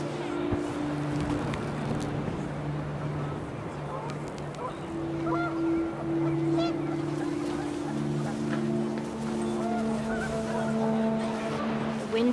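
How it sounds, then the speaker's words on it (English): Geese honk in repeated, sustained calls above a gusty wind in the video game What Remains of Edith Finch, with a voice talking over them throughout. "The wind picked up and panicked geese appeared and quickly went."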